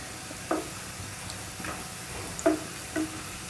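Potato pieces frying in a pan for a Spanish potato omelette, a soft background sizzle broken by a few separate scraping stirs of a utensil at irregular intervals.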